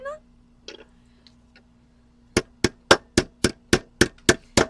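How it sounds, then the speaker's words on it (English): A silver spoon ring held in a vise is struck with a hammer, first a few scattered light taps, then a steady run of about ten sharp, loud, evenly spaced metallic blows. "what the vise allows you to do is really just pound the crap out of it and get it into a really good circular shape"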